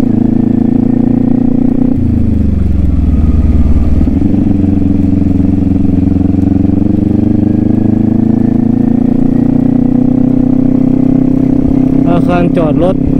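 A Kawasaki Ninja 400 motorcycle engine runs close by while parking, a steady, loud low drone that dips briefly and then holds an even idle-like hum throughout.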